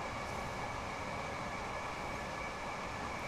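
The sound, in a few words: passing train in Train Sim World video game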